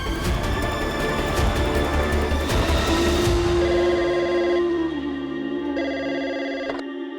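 A telephone rings out on a call placed to a hospital, a steady electronic ringing tone sustained under swelling dramatic background music, with no voices.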